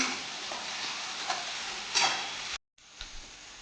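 Tomatoes sautéing in a pan for a dhaba-style cashew curry give a steady soft sizzle with a few stirring scrapes, close and moderately quiet, broken by a brief gap of silence near the end.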